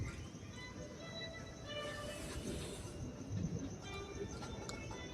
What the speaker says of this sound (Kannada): ತುಮಕೂರು ಟ್ರೈನ್ ಇದು ಹೋಗ್ತಾ ಇದೆ ನೋಡಿ.